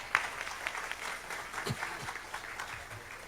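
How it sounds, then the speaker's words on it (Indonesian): An audience applauds at an Indonesian gathering, the clapping faint and somewhat distant, with scattered louder claps and low murmurs beneath. "Tepuk tangan."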